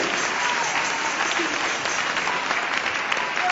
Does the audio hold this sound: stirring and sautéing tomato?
no